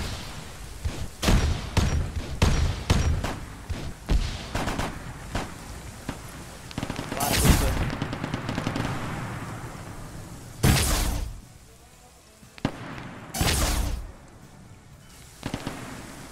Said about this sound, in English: A lot of explosions going off and knocking down walls.